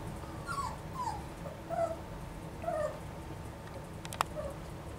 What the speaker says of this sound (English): just because he's whiny now doesn't mean he's going to be a bad puppy